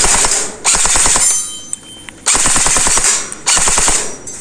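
An FJ M4 CQB electric gel blaster fires three loud, close full-auto bursts, each a rapid mechanical rattle of shots, separated by short pauses with faint clicks.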